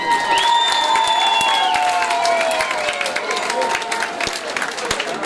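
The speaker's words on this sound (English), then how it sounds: "So please, everyone, round of applause for my wife." A crowd at a boxing promotion event applauds and cheers, with loud, dense clapping and shouts filling the hall and slowly easing off.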